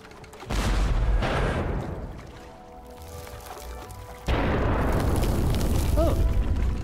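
A cannon fires a cannonball in the adventure game Jack Keane 2, two heavy booming blasts with rumbling tails, the second one louder and longer, with no voices.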